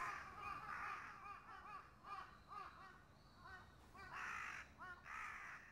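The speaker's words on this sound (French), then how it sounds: "Et bah, c'est des corbeaux." Several crows caw repeatedly in loud bursts, overlapping one another, over a faint background hiss, in the Dreamcast horror game Grauen no Torikago.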